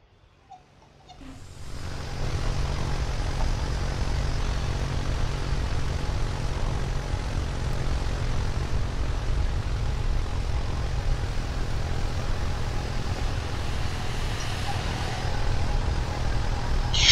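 Steady, loud aircraft engine drone from a plane in the Roblox flight game Aeronautica, starting quietly and swelling within two seconds into a continuous low propeller roar that holds without a break, with no voices over it.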